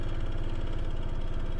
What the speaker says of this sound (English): The engine tone is quiet, and I know most Harley-Davidsons are loud.